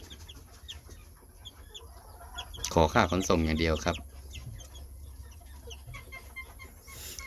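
Chickens cluck in a short burst of loud, harmonic calls near the middle, with someone talking over the quieter stretches before and after.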